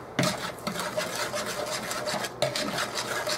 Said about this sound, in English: So we're going to mix this together and then add it to the sweet potatoes